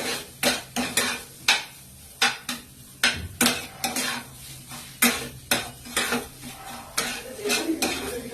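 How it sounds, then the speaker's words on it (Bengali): Coconut filling for stuffed pointed gourd dolma being mixed in a pan, with regular clinks and scrapes of a utensil against metal, close and steady, and a faint sizzle beneath. "খুব ভালোভাবে মিশিয়ে নিয়ে পুরটা বানিয়ে নিতে হবে"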